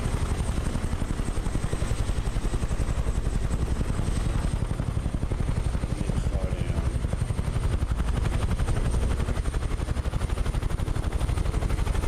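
A Huey helicopter in Microsoft Flight Simulator 2020, flying over Ireland, gives a loud, continuous rapid rotor chop over a dense turbine roar, steady and close throughout with no talk.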